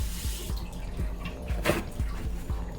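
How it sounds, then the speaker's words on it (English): Tap water runs steadily into a jar being rinsed, with a splashing patter and small rhythmic knocks as the glass is moved under the stream. The sound is close and moderately quiet. "Jar rinse."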